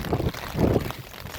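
Wind buffeting the microphone at Point Park on Lookout Mountain, Chattanooga, in low rumbling gusts that swell and fade over a short stretch, with no clear speech.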